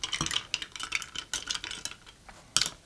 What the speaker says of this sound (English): We'll do a little stir.